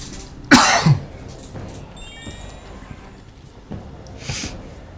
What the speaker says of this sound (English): Also, sorry about the cough.